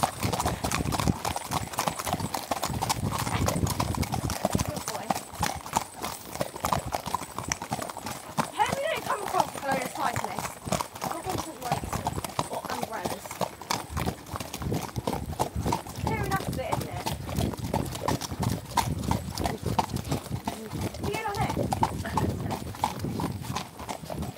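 Several ponies trot together around a show ring, their hooves making dense, continuous clip-clopping close by, with voices talking over the hoofbeats throughout.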